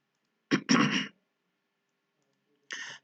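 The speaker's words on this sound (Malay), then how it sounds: "Batuk sikit." A couple of short throaty coughs close to the mic, followed after a pause by another brief cough.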